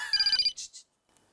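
A mobile phone ringtone chirps in a bright, rapid warbling burst, then two short tones follow and it cuts to silence.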